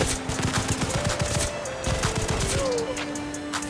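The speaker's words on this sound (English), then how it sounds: "Alright, so first we have the wrist rifle." A wrist rifle firing in the Roblox game War Machines, loud and close, with a steady rapid stream of shots running the whole time and a faint electronic tone beneath.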